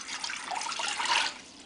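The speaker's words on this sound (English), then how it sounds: "I've got 2 cups of water, so I'm pouring my water into the pot here." Two cups of water pour into a nonstick ceramic electric portable cooker pot, a steady close splashing rush that swells and then tapers off, with no talking.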